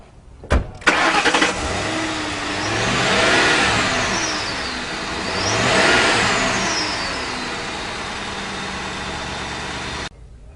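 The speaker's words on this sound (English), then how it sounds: "When you hit the accelerator on this car, it gets up and goes" A car engine starts with a sharp crank, then revs up twice in long rising and falling surges before settling into a steady, loud hum.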